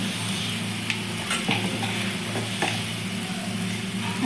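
Spices sizzle as they are stir-fried in a pan for a Bengali-style squash dish, a steady close crackle broken by a few scraping strokes of the spatula.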